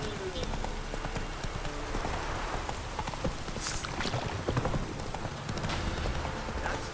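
The horse Roach clip-clops steadily through rain in The Witcher 3, with dense hoofbeats under rainfall and talk.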